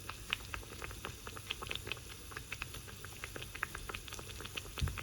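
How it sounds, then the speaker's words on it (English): Cheesy hash browns fry in a pan, giving a faint, steady crackle of fine sizzling pops with no voices. "Fry them until both sides are beautifully golden and crispy."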